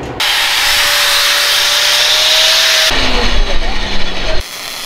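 A power saw cuts metal parts for a lazy jack boom modification, a loud continuous whine that drops in pitch mid-cut before stopping abruptly.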